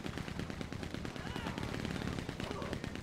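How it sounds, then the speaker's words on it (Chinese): Rapid machine-gun fire in the video game Red Dead Redemption 2 rattles on continuously in dense, fast bursts, loud and close throughout. "哇那个枪子弹好恐怖哦"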